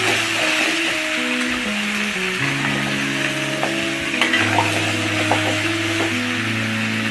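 Garlic and ginger paste being stirred into vegetables in a pan, a soft steady sizzle with light scraping strokes under a sustained musical tone.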